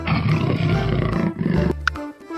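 A jaguar lets out a deep, loud, rumbling roar close up that lasts nearly two seconds, then ends in a short grunt and a softer tail, with no voices.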